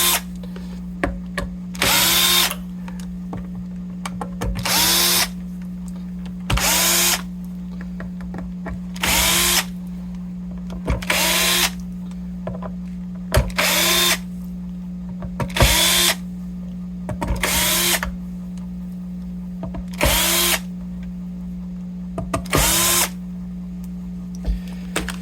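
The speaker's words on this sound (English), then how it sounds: "I would never use a drill on a guitar." A power drill run against a vintage Viewer guitar whirs in repeated short bursts, about ten spaced pulls of the trigger over a steady low electrical hum, close and loud with quiet gaps between.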